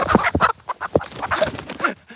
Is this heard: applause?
no